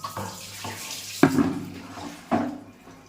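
Water running from a tap into a container at home, splashing and gurgling up close, broken by a few sharp clunks and knocks as the flow is adjusted.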